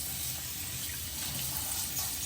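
Running tap water splashes steadily while gold jewelry is rinsed under it, a continuous close hiss with no pauses.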